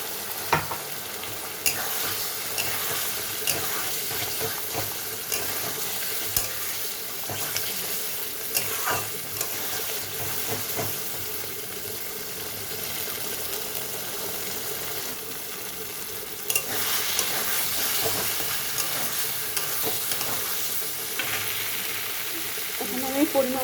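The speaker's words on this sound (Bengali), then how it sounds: "এটা কষানোর জন্য এখানে একটু জল দিয়ে দিচ্ছি।" Spinach paneer masala sautés and sizzles steadily in a pan after a splash of water, with stirring scrapes throughout, close and fairly loud, and no talk.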